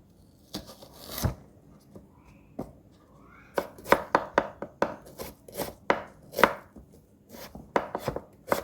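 A knife chops onions on a cutting board in a near, crisp series of sharp thuds, a few spaced strokes at first, then faster irregular bursts of cuts with short pauses between them.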